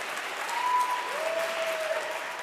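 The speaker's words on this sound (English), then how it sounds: "I'll wait for the applause." Steady crowd applause from an audience at a debate, a dense even wash of clapping throughout with a faint tonal sound over it.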